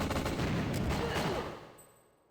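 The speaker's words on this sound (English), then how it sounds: "I'm just gonna be exchanging gunfire while trying to evade" Gunfire exchange in the video game Winback: Covert Operations, a dense burst of rapid shots and impacts for about a second and a half before cutting off abruptly into near silence.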